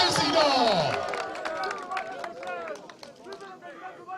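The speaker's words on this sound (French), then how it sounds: "Applaudissez fort. Applaudissez." A crowd at a political rally in Bitam, Gabon, claps in scattered sharp bursts, loud and close at first and thinning out, with someone speaking over the applause.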